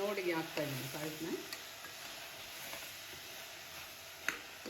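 Vegetables and lentils sizzle softly in a pan while being stirred as they roast for saagu, a gentle, steady frying hiss with a few scraping strokes and a faint hum of a voice at the start.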